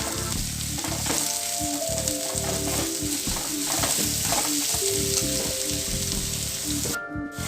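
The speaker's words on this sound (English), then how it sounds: "Okay, so I have my carrot and my cabbage. I'm going to mix that first." Carrot and cabbage sizzle and crackle steadily in a hot pan while being stirred for spring rolls, a dense close frying hiss with occasional clinks, tailing off at the very end.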